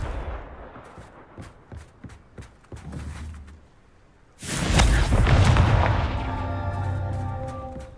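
Confringo fire spells from Hogwarts Legacy: a run of sharp thuds and clicks leads into a heavy booming explosion that roars and rumbles for several seconds before settling into a ringing tail.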